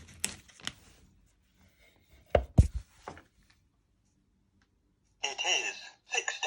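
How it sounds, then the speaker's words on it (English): A knife cuts a piece from a block of butter, a few sharp taps and scrapes against a board followed by a quiet gap and then a short rustle of wrapper. "you just want to take a piece off using a knife"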